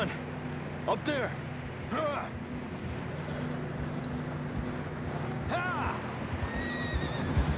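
Horse neighing in the game Red Dead Redemption 2, several whinnies spaced across the stretch over a low engine-like hum and faint hoofbeats, with someone speaking between them.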